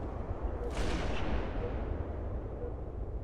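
A single loud, booming gunshot from Halo 3 gameplay in a sniper lane, its rumbling tail fading slowly over a constant dense bed of low game noise, with no voices.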